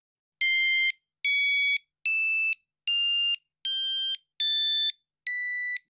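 A van pipe carrier alarm gives seven loud, clipped electronic beeps in an even rhythm, each pitched a little differently through the sequence, with silence between them and no voices.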